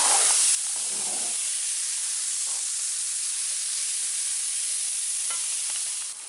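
Vegetables for a venison shepherd's pie sizzle steadily in a hot pan, a loud, even frying hiss with occasional stirring scrapes near the start and no talking.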